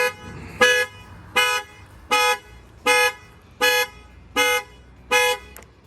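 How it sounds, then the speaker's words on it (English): A 2021 Ford Mustang's factory alarm, triggered by its shock sensor, blares its horn in a steady alarm pattern, seven evenly spaced loud honks about once every second and a bit, close by. "now you're going to see the alarm's going to go off."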